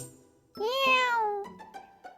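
Wilbur, a cat, gives a single drawn-out meow that rises and falls, followed by a few short, softer chirping mews, fairly close and quiet against a silent background.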